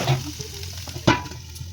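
Banana stem being stirred as it fries in a pan, a steady low sizzle with soft scraping strokes and one sharper clatter near the middle, no voices.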